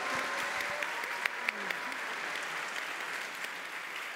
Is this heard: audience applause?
yes